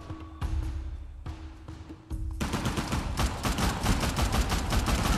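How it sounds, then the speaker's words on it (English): Rapid, sustained gunfire in a gunfight in the video game Uncharted The Lost Legacy on PS4 Pro, opening with a few loud bursts separated by short pauses, then building into dense, continuous machine-gun fire and explosions that fill the rest. "Getting into a gunfight already, 2 seconds in."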